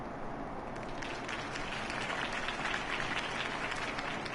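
Crowd applause follows a city campaign speech in the Batman Telltale video game, a steady dense wash of clapping and cheering that swells slightly and holds throughout without speech.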